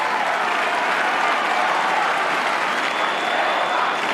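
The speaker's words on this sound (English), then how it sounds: "St Kilda crowd with applause" A large St Kilda AFL football crowd applauds steadily at a St Kilda v GWS match, a dense, continuous wash of clapping from a distant stadium audience with no voices standing out.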